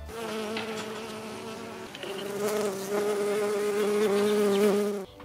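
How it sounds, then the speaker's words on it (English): Loud, deep, continuous buzzing of a carpenter bee, an Australian native bee, close by and steady for several seconds with a slight rise in intensity, no voices. "Carpenter bees make a loud, deep buzzing sound, which is very different to the European honeybee's buzz."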